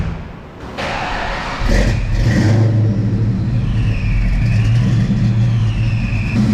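A supercharged Ford Mustang, revived after sitting fifteen years, revs hard on a Dynojet 224X dyno during a third gear pull with a wideband sensor in the tailpipe. The engine note is close and loud, climbing and building strongly, with a thump near the start.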